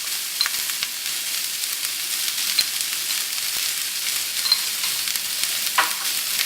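Onions sauté with salt in a pan for potato bonda, giving a steady, even sizzle close up, with a few faint clicks and no talking.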